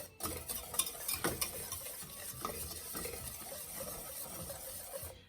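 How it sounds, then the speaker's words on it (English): A whisk stirs a thick brown sugar mixture for Twix bars in a pot, giving soft repeated scraping and swishing strokes with light metallic clinks. The sound stays close and steady, and no one speaks. "1/2 cup of brown sugar. I'm gonna start with a whisk here."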